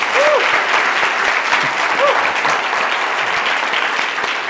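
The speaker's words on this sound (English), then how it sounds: "Can I have a round of applause for Luke?" Steady applause from a live stage event audience for Luke, loud and sustained throughout with a few faint whistles over the clapping.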